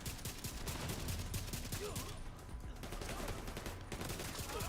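Sustained automatic gunfire from a weapon in the video game The Division 2, a dense rapid stream of shots with a brief lull midway, fairly constant, with faint speech underneath.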